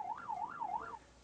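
A fire engine siren wails in a rising and falling pattern, three sweeps in quick succession, during a fire department training drive through city streets in Pohang, heard clearly and fairly close.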